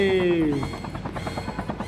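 A helicopter in a game chops with a steady, rhythmic rotor thumping close by after a brief falling tone, with a voice briefly over the start.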